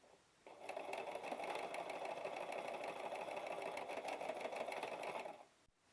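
Domestic sewing machine stitching the last side of a fabric makeup remover wipe with a backstitch, one steady whirring run of about five seconds, close and alone.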